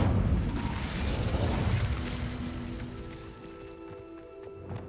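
The Incendio fire spell is cast in Hogwarts Legacy: a loud whooshing, roaring burst of flame that swells at once, then slowly tails off into a fading rumble.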